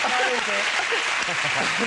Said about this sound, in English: Come on, round of applause, guys.